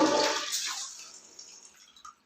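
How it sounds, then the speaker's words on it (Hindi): A toilet flushes after a leak repair, a rushing gush of water that fades over about two seconds into a softer trickle and refilling sound, fairly quiet and close. "फ्लश खोलते हैं। फ्लश खुल गया है, बहुत ही बढ़िया पानी आ रहा है।"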